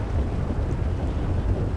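Steady rain pours in GTA 5's Los Santos, a dense, even hiss with low rumbling wash throughout, continuous and fairly loud with no talking.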